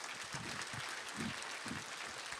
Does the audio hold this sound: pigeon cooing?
no